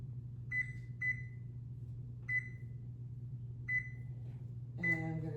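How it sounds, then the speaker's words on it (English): A kitchen oven's control panel gives four short, evenly spaced electronic beeps while the timer is set during sourdough croissant bread baking, then a longer tone at the end, all over a steady low fan hum. "I'm gonna set the timer to 3 minutes"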